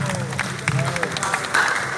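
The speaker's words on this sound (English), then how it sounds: "Clap for yourself if you've made it back to Africa." A panel discussion audience at a Marcus Garvey Day celebration claps for themselves, a steady wash of applause filling the short moment with voices mixed in.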